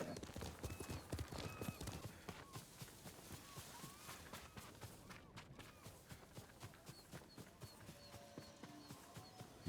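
Horse hooves clip-clopping steadily in the Ghost of Tsushima video game, a regular walking rhythm of close, quiet hoofbeats over soft ambient background.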